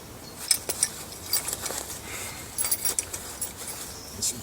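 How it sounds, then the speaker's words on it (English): A small bunch of keys jangles in several brief metallic bursts while gear from a bug out bag is handled, fairly close and moderately quiet with no talk. "And some keys."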